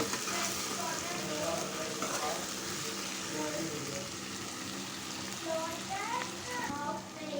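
Stuffed brinjal curry fries on a low flame, giving a steady, moderate sizzle with occasional stirring scrapes, heard under a speaking voice.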